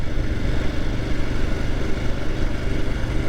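A 2022 Royal Enfield Himalayan Scram 411 motorcycle drones steadily while being ridden, a continuous low engine rumble mixed with wind noise, loud and close throughout.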